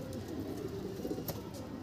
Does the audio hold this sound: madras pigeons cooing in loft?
yes